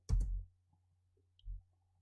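A single computer keyboard key is pressed to enter a console command, giving a short, close click, followed by a second soft tap about a second later in an otherwise quiet room.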